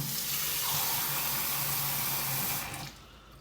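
Steady rushing water pours into a pocket gold sluice during gold prospecting, loud and continuous for nearly three seconds before it tapers off.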